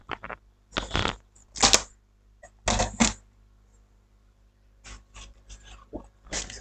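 A craft knife cuts a paper border on a scrapbooking piece: several short, crisp scraping strokes come in separate bursts with quiet gaps between them, close and fairly soft, with no voice.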